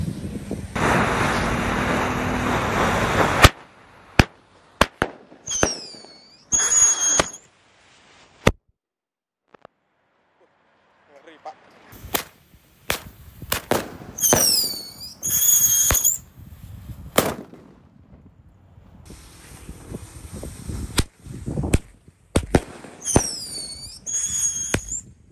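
A full box of Happy Power launcher firecrackers goes off at once: sharp, loud bangs and whistling squeals come in dense bursts, pause for a few quiet seconds, then resume in more clustered volleys.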